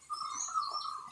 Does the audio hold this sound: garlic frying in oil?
no